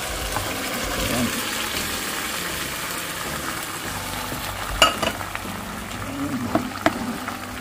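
Boiled mung beans tumble into a pan of sautéed aromatics, with a steady frying sizzle and stirring throughout and a few sharper clatters and splashes toward the end, close and moderately loud.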